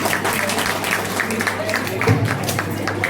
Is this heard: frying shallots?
no